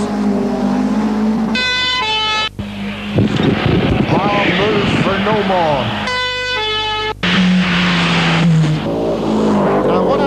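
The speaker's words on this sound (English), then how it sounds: "The cars were coming right at us." Rally cars at the 1982 Circuit of Ireland Rally roar past close to spectators, with loud engine surges and horn-like blasts, while people talk over them.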